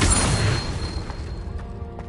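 A Confringo spell in Hogwarts Legacy detonates in a loud, booming blast that hits at once and then decays into a rumbling roar over about two seconds.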